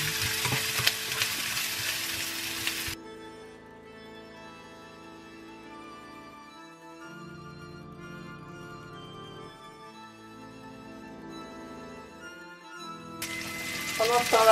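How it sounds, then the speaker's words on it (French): Chorizo fries in a pan for a risotto, the sizzle loud at the start and end with a quieter middle stretch where a soft tonal background dominates. "quand le chorizo est un peu frit"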